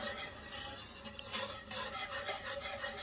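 A whisk scraping and stirring seasonings into canned green beans in a pot, a continuous soft rhythmic rubbing up close.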